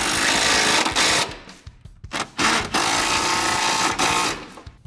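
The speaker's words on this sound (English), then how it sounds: "we could take our 14mm socket, and I'm going to tighten things down" A 14mm socket wrench ratchets in quick, loud clicking bursts, tightening bolts on Silverado step bar brackets, with short pauses between runs and no talking.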